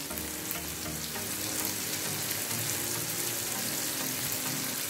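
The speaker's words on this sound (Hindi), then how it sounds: "इन सारे मसालों को हम डाल के अच्छे से मिक्स कर लेते हैं।" Spices of turmeric, salt and crushed red chilli stirred into frying okra in a karahi, a steady, dense sizzle with soft scraping of the stirring, continuous and close with no talk.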